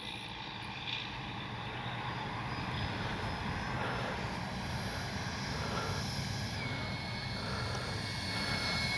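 Freewing Vulcan 70mm electric ducted-fan RC jet flying past with landing gear and flaps down, a steady whooshing turbine-like roar that holds loud throughout, with no talk.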